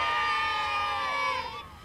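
A large crowd in Newcastle roars and cheers loudly and steadily for the Olympic torch's arrival, with shrill whistles and high voices rising over the din before it eases slightly.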